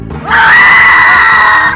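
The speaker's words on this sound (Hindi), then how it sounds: "और इन दोनों की चीख फिजा में गूंज गई।" Two people scream in terror inside a car: a loud, high, sustained shriek that rises quickly and holds steadily for well over a second before cutting off.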